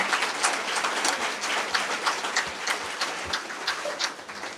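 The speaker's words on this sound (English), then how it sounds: "Can we get another round of applause for our health commissioner?" An indoor audience at a community meeting applauds the health commissioner, a steady wash of many hands clapping at moderate distance, unbroken and without speech over it.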